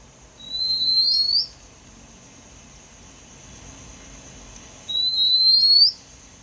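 Two clear, bright whistled calls of an Oriental Magpie Robin a few seconds apart, each a short rising phrase, over a faint steady hiss.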